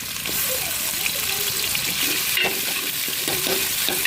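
Garlic and curry leaves hit sautéing tomatoes in a pan for brinjal sambar, giving a steady close sizzle and frying hiss with light stirring scrapes, and a voice speaks briefly over it.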